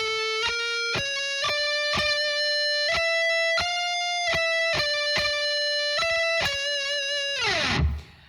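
Distorted electric guitar solo picking a fast series of sustained, buzzing notes in a steady rhythm, loud and close, ending in a noisy slide.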